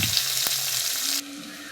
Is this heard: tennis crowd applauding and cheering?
no